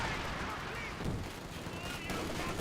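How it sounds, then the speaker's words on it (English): Gunfire in the Company of Heroes 2 strategy game, a dense crackle of rifle and machine-gun shots with explosions rumbling underneath, continuous and loud, with a voice faintly audible within the battle noise. "Grenadiers firing away, getting some hits on the captain."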